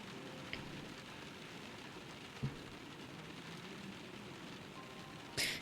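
Soft rain pattering steadily in the game Letter Lost, a faint, even hiss of drops that runs throughout, with a dull low thud near the middle and a brief sharper burst at the end.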